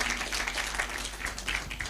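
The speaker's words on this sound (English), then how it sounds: "you can clap for that, because it's a big thing" Audience clapping at a Kenyan anti-counterfeit authority event, a steady, moderately distant patter of many hands heard alone for a couple of seconds.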